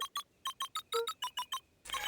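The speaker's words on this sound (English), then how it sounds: "Luca cracked his knuckles and entered the letters into the keypad" Letters punched into a phone booth keypad in the Beacon Pines video game, about ten evenly spaced electronic beeps followed by a short burst of noise, clear and alone.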